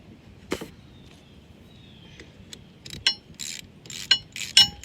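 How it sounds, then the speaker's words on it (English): A socket ratchet loosens a bolt on a Polaris, giving quick bursts of sharp, close mechanical clicks that start sparse and grow louder and more frequent toward the end, over a quiet background. "you can use your socket and your ratchet, loosen that up"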